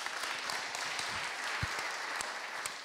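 Applause from the audience at a food film festival talk, even, fairly faint clapping with a few sharper individual claps and no talk over it.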